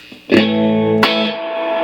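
A Fender Blues Jr guitar amp rings out two strummed guitar chords, the second struck about a second after the first, each sustaining with only a short, dry trace of reverb and no voices.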